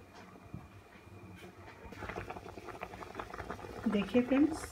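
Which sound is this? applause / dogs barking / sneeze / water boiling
water boiling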